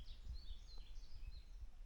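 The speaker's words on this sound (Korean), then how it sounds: "새소리가 참 곱네요." Birds sing on a mountain trail on the Gyeonggi old road, with faint, thin chirps and short whistled phrases in the distance over low rumbling background noise.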